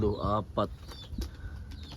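Pigeons kept by a hobbyist flap their wings and coo close by in short bursts, with a voice-like warble at the start.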